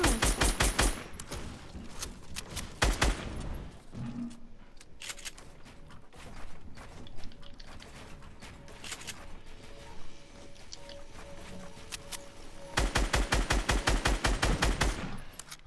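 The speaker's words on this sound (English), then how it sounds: "I'll be shooting it down." Rapid automatic gunfire from the Fortnite video game comes in loud, dense bursts at the start and again near the end, with scattered shots and mechanical game sounds in between, and no voices.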